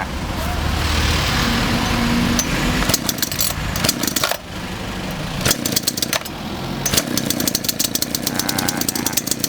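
An Anata chainsaw engine sputtering and catching as it is pull-started with the throttle squeezed, rough uneven revving bursts and sharp mechanical clatter, loud and close, with some speaking between the bursts.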